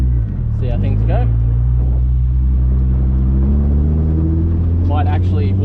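A cold Nissan 350Z idles while warming up, a low, steady, throbbing rumble close by, with someone talking over it.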